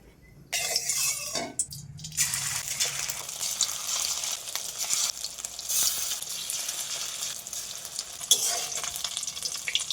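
Steady, busy sizzling of chicken frying in hot oil in a wok, with occasional scraping and clinks of a utensil in the pan.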